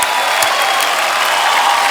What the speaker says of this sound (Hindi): एक बार जोरदार तालियां हो जाए हमारे सभी खिलाड़ियों के लिए।